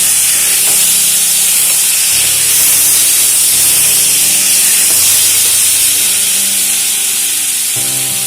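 Water goes into a hot wok of masala, potato, pointed gourd and prawns with a loud, steady hissing sizzle and steam that stays strong throughout, with faint knocks of stirring.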